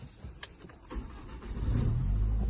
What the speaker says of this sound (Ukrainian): Так заводиться машина.